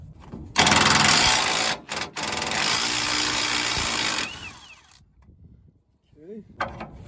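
High-torque cordless impact wrench hammering on a rusty bolt, a loud continuous rattling burst of several seconds with a brief pause, then tapering off, followed by a short final burst up close.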